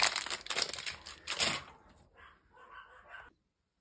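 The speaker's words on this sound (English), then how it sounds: "My dogs were just kicking off again." Several dogs barking in short bursts indoors, muffled and fairly distant, the barks clustered in the first half and fading into fainter yelps and rustling.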